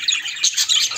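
A small bird chirps rapidly in short, high bright bursts, several quick tweets in a row close by.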